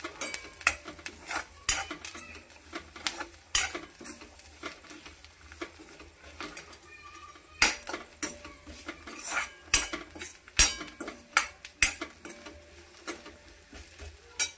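Masala filling for stuffed bitter gourd is roasted in a pan with a spatula that scrapes and clacks against the metal in irregular bursts, close and sharp, over a faint sizzle, with no talking.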